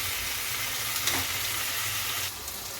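Chicken and whole peeled garlic cloves fry in a pan with a steady, close sizzle and crackle that continues throughout, with no one speaking.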